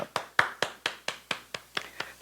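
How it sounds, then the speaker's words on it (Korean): Hands clap in thanks during a Wednesday church worship service: about nine crisp, evenly spaced claps in a steady rhythm, close and distinct with quiet between them. "우리 하나님께 감사의 박수 올리겠습니다"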